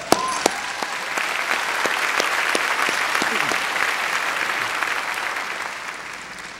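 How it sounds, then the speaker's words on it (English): Graduation ceremony audience bursting into applause, a loud, sustained sheet of clapping from a large crowd that starts with a few sharp claps and slowly tapers off, with no speech over it. "our advisor, Mr. Alan Danner, who I think deserves a round of applause."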